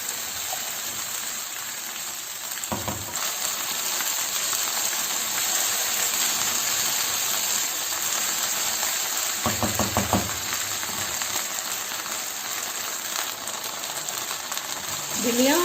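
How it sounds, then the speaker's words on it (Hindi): Okra and onion frying together over medium heat, a steady wet sizzle throughout with occasional clinks and stirring noises. "भिंडी और प्याज को अब हम इकट्ठा फ्राई करेंगे"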